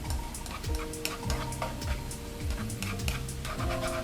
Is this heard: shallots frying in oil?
yes